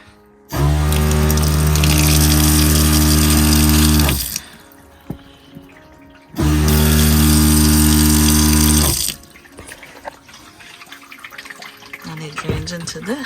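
A water pump in a van build's sink setup runs loudly in two bursts of a few seconds each, a steady whirring hum that stops abruptly each time, with quieter clatter between and after.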